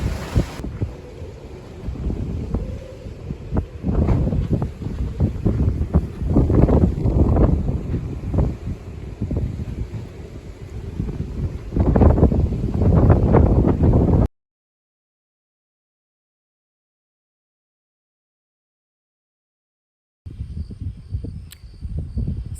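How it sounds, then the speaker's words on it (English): Strong storm outflow wind buffets the microphone in loud, gusting rushes for about fourteen seconds, then cuts to silence before a quieter stretch of wind returns at the end. "So that wind huffed and it puffed and it tried to blow the house down"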